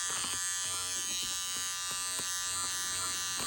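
A Snip & Rip seam-removal tool buzzes steadily while it takes out the seams of a warped jelly roll fabric rug, a continuous close electric whir with faint rhythmic ticking throughout.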